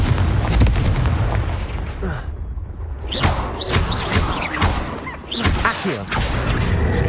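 A Confringo explosive spell in Hogwarts Legacy bursts with booming, crackling blasts and sharp pops, several loud impacts in quick succession with sizzling magical streaks between them.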